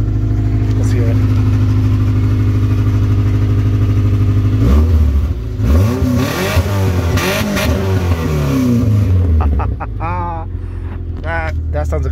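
A car engine at an auction idles, then revs up and down several times in rising and falling sweeps, close and loud, with brief voices near the end as the engine settles back to idle.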